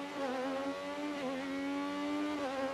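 F1 24 video game Formula 1 car with V6 engine, a strong harmonic engine whine whose pitch steps and dips as it shifts down, with a brief tire squeal.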